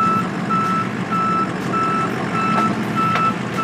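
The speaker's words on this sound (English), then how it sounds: "I'm going to back up in front of a purple car." A truck backing up gives off steady, evenly spaced reversing beeps over a loud, constant engine rumble, close by and continuous throughout.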